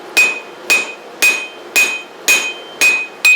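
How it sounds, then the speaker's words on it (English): A hammer strikes hot steel on the horn of a VEVOR 66-pound anvil while forging a four-sided taper for a tool shank, seven sharp ringing blows in a steady, even rhythm, close and loud. "To forge out the taper for the shank of the tool a little faster, I'm using the horn of the anvil."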